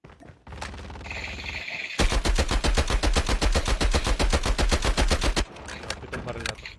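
Rapid, sustained automatic gunfire rattles loudly for several seconds in the online shooter game Puma, preceded and followed by quieter game-like effects.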